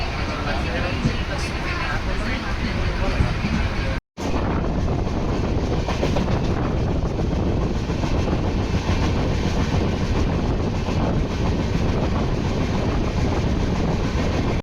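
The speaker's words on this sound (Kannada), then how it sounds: "ಇವಾಗ ಫೈನಲಿ ನಮ್ಮ ಟ್ರೈನ್ ಬಂದೈತೆ ಕೂಪಮ್ಗೆ ಗೈಸ್." A train pulls into Kuppam station on the Visakhapatnam to Bengaluru route, a loud, close, continuous rumble with rattling wheels and wind buffeting, broken by one brief dropout.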